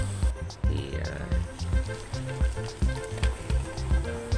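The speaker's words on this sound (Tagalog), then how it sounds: "Konting halo-halo lang po hanggang sa ilalim para pantay po ang pagkakaluto ng ating pork." Pork menudo bubbles and sizzles in a pan as it is stirred down to the bottom, with repeated close scraping and squishing strokes in an uneven rhythm over a steady frying hiss.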